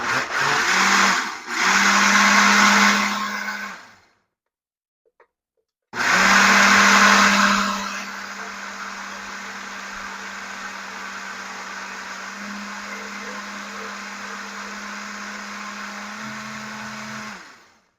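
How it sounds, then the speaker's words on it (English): A loud small drink blender mixing flatbread batter whirs in short bursts, pauses in silence, then runs continuously with a steady motor hum and grinding whine. "And I'm just using like the drink blender"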